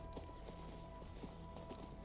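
A horse's hooves clip-clop in a steady walking rhythm in the video game King's Bounty 2, moderately loud over a low ambient game hum.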